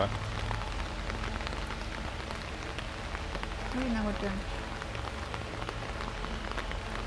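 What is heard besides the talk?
heavy rain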